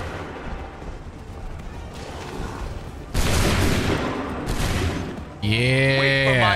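Musket volleys in Assassin's Creed 3, heavy rolling crackles of massed gunfire that erupt in loud bursts between quieter battlefield noise, with a sustained tonal game sound entering at the end.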